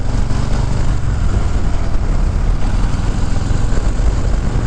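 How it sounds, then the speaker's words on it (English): A loud, rough motorcycle engine roar runs steadily throughout, thick with low rumble and no talking, during a bad gear shift. "So here's what a bad shift sounds like."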